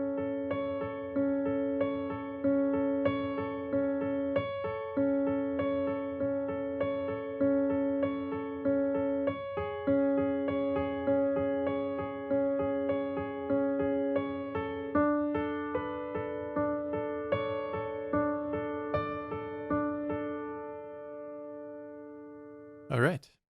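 A piano right hand alone plays a steady, repeating melody, evenly pulsed notes sustaining into one another at close range before a final sharp stop.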